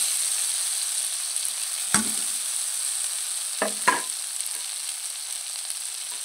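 Potatoes frying in a pan for a rural-style chela fish dish, a steady close sizzle throughout with a few brief stirring clatters.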